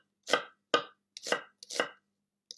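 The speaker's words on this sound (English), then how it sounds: "So I'm just going to slice them. Finely slice them." A knife finely slices aubergine on a board for a vegan tagine, five crisp separate cuts in an uneven rhythm, close and clear with no talk.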